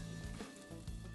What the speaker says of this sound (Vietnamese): Cho hem vô chiên được rồi.